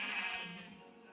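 Sheep bleat on a farm in one drawn-out, wavering call that fades toward the end, close and fairly loud with no talk over it.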